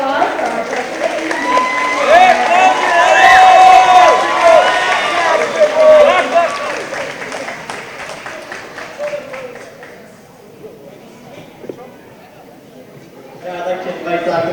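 Audience applause and cheering at a school's 2022 moving-on ceremony, loud and dense at first, then fading to a quieter lull before clapping swells again near the end.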